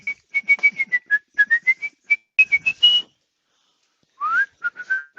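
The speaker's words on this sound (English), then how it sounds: "Excuse my terrible whistling." A person whistles a wavering tune in quick, short notes, close and fairly loud, pausing for about a second before a final rising phrase.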